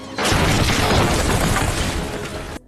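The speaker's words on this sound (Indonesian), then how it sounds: "Dengan ledakan yang menghasilkan percikan api sehingga membuat surat obligasi tersebut terbakar" A grenade blast in a film erupts as a sudden, loud, dense roar that fills the soundtrack for about two seconds before cutting off abruptly.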